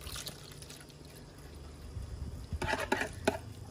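Coconut milk poured into a pot of Thai chili paste for hor mok pla, a short liquid glug and splash near the end after quieter clinks and shuffles of kitchen handling.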